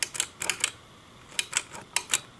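Clicky switch on a 4 watt preheat fluorescent strip light, sharp close mechanical clicks in two quick clusters separated by a brief pause, with nothing else audible.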